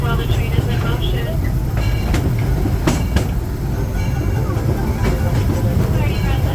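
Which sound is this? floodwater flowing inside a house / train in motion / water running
train in motion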